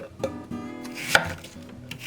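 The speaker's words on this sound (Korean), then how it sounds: "마늘 10개 작게 썰어 담고" A knife chops garlic cloves on a cutting board in a few uneven strokes, with dry scraping sounds between cuts, close and fairly quiet.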